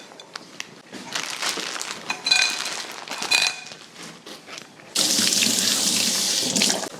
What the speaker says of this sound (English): So I'm gonna go wash my hands.